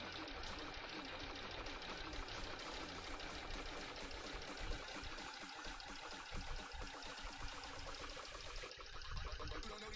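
A sewing machine stitches flat felled seams on undergarments, running in quick rhythmic bursts of rapid needle clatter with short pauses, fairly close and moderately quiet, with music faintly underneath.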